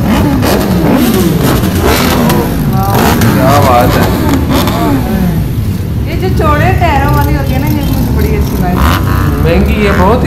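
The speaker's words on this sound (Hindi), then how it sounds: "वाह ये सारी हैवी बाइक्स हैं।" Heavy motorcycles at a bikers rally rev and accelerate one after another, engines rising and falling loudly and close by, with a person talking over them.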